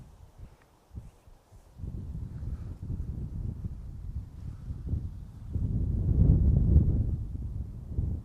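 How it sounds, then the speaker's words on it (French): Strong wind buffets the microphone on a golf course at the first tee beside a forest, a low rumbling roar that swells and gusts, loudest near the end, with no talk. "Alors il y a beaucoup de vent là"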